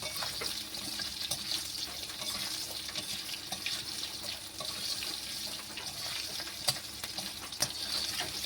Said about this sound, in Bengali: দিয়ে আলুগুলো ভালো করে ভেজে নেবো।